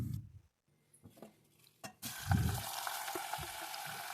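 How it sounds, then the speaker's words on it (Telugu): Tempering seeds and a pinch of asafoetida hit hot oil in a pan for an eggplant curry, bursting into a steady, crackling sizzle after a few quiet knocks and clinks, close and continuous. "తాలింపు గింజలు వేసుకుందాము. దీంతో పాటుగా కొంచెం ఇంగువ కూడా వేస్తాను."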